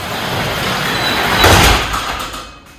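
A garage door with a poorly balanced spring rolls shut with a low rumbling slide that swells to a heavy thud midway, then the noise trails off and stops.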